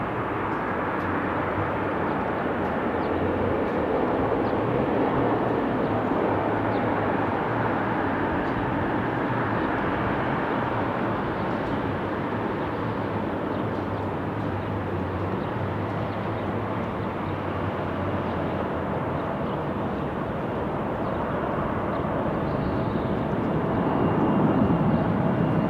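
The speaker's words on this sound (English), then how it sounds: "Here's our Heavy 767 getting ready to take off on runway" A heavy Boeing 767 jet roars steadily on takeoff from runway 16 Left at Salt Lake City International, a loud, broad, continuous engine rumble that swells slightly toward the end.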